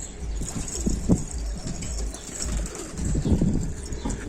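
Domestic pigeons coo softly nearby, low throaty calls rising now and then over a steady background hum, with no speech.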